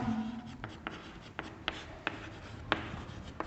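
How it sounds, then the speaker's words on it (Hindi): Chalk or marker strokes on a board in a physics classroom, a string of short, quiet taps and scrapes at irregular intervals over a low room hum, with no speech. "मैं यहां लिख रहा हूं"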